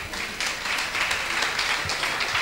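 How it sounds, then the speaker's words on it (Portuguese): A radio station anniversary audience applauds for Afonso, a former footballer, with brisk, even clapping that holds at a steady level from start to finish. "Uma salva de palmas para o Afonso."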